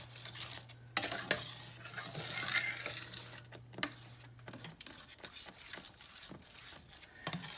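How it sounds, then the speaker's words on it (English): A spatula scrapes and stirs self-rising flour into steak drippings in a pan, giving soft scraping strokes and light clinks over a quiet sizzle, with a low hum in the first part. "The reason I use this spatula here is to be sure I get all my drippings off the bottom of my pan"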